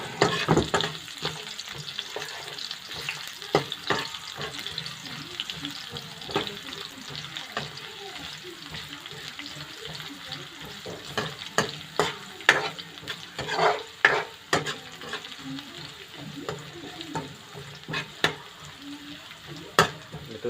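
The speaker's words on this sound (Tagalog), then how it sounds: "Ayan, mapula-pula na natin bawang. Lalagay na natin ang sibuyas." Onion and garlic sauté in a pan for fish sotanghon soup, a steady soft sizzle broken by frequent scraping stirs and clinks, close and fairly quiet, with no talking.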